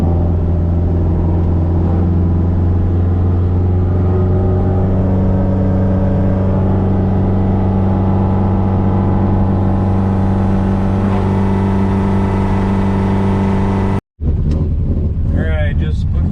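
Car with a freshly installed motor out on its first test drive, a steady loud engine drone with road and wind noise throughout, then a sudden cut near the end followed by rustling handling sounds.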